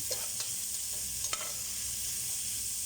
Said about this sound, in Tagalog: Halo-haloin hanggang mag-golden brown.